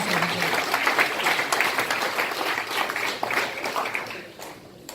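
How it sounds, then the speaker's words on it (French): Audience applause at a senator's 2019 New Year's greetings event in France, a steady dense patter of clapping filling the room for about five seconds before tapering off near the end. "On peut applaudir et maintenant encourager la 3e ville de France."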